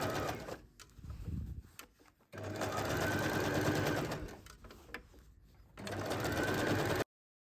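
Sewing machine stitching tote bag pieces together half a centimeter from the edge, a steady mechanical whirr in several runs with brief pauses between, close and fairly quiet.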